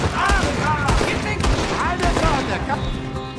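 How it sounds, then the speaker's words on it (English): Rapid gunfire crackles in a cowboy video game, a dense burst of overlapping shots with whizzing sounds, loud and busy, while a voice speaks underneath. "Now you can just shoot him."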